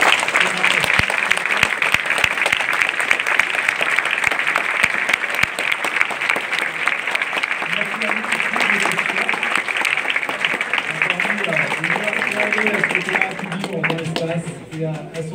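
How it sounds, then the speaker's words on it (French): Steady audience applause after a speech at a school science competition ceremony, broad and continuous for most of the stretch, with a voice starting to talk over it and the clapping fading near the end. "Je crois qu'on peut applaudir."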